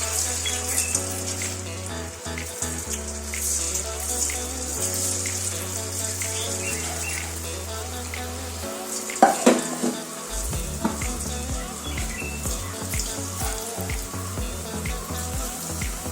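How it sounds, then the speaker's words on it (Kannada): Cauliflower pieces coated in batter deep-frying in hot oil for gobi manchurian, giving a steady hissing sizzle throughout, heard under loud background music with a pulsing bass line. "ಎಣ್ಣೆಯಲ್ಲಿ ಬಿಟ್ಕೊಳ್ಳೋಣ."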